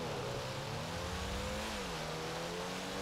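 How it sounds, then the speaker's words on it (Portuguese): A Comet S2 sports car in GTA V drives with a steady, loud engine drone and a broad hiss resembling wheels churning through water, continuous for a few seconds with a slight pitch shift midway. "parece que ele tá com barulho que tá andando dentro da água"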